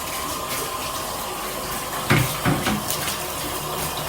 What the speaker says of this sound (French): je laisse couler un petit peu d'eau tiède dans mon bain. Puis je les passe à l'eau puis je les brosse en même temps